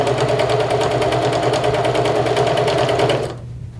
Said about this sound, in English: I'm going to take to my sewing machine